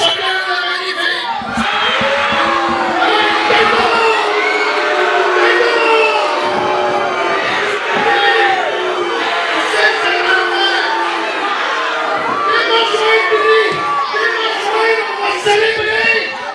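A packed wrestling arena crowd at a JCW royal rumble event cheers loudly and without a break, with high children's shouts and whoops mixed into the roar throughout.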